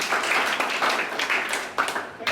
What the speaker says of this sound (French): The most simple is to ask you to clap your hand for them, please.